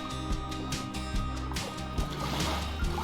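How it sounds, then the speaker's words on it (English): Continuous close sloshing and splashing as a soldier walks through waist-deep water in the Squad video game, with rhythmic surges of churned water at each stride. "Just turning makes splashing noises."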